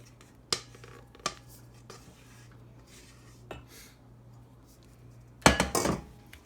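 Thick brownie batter going into a baking pan: a few sharp metallic clinks and taps of a utensil against the pan, then a louder burst of scraping and clattering near the end, heard close in a quiet kitchen.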